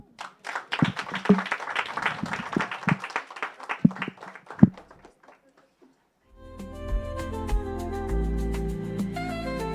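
Audience applause for the Minister of ICT at a connectivity campaign launch: scattered, uneven clapping with sharp individual claps, fading out around six seconds, then music starts and continues to the end.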